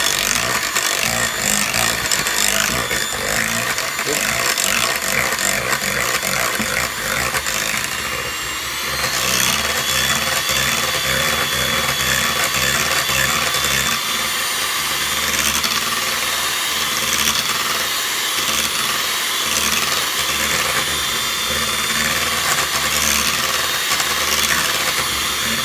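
An electric mixer whirring through pancake batter in a kitchen, a steady loud motor hum with a grinding rub that shifts tone partway through, running continuously.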